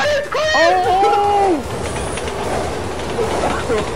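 A train rumbles past in a video game, a steady rolling clatter that continues after a brief shouted voice at the start, with players' talk over the top.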